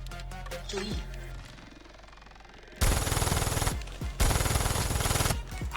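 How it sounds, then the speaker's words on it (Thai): Rapid bursts of automatic gunfire in Call of Duty Mobile, two loud sustained volleys after a quieter stretch, close and harsh. "เสียงปืนมาละ"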